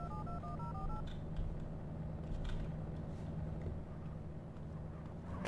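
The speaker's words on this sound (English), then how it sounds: "Call Nathan or something." Telephone keypad tones dial out in a quick run of paired beeps, clear over a steady low engine-like hum during a roleplay game scene.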